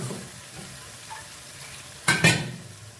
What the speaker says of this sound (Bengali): এবার এটা বেশ খানিকক্ষণ কষবো, নাড়াচাড়া আর কষার ব্যাপার, একটু কষে নিই এটা।